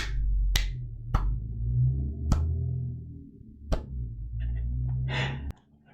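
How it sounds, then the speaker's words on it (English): A slow clap, about five sharp, separate hand claps spaced unevenly apart, close and fairly quiet over a low background hum. "slow clap."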